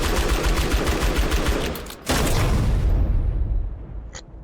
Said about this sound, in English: Okay, I won't take explosion damage from the grenades.